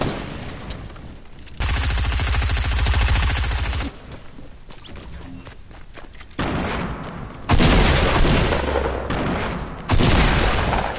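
Bursts of automatic gunfire in a Fortnite match, several long sustained volleys with short gaps between them, loud and close, firing steadily in rapid succession.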